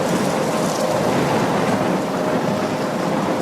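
Stormy rain in the Life Is Strange video game, a dense, loud, continuous rushing hiss that stays steady from start to finish with no voices.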